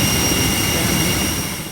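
Loud, steady roar of a jet aircraft engine heard up close beside a parked IndiGo plane on the airport apron, a constant whine and rumble that fades slightly toward the end.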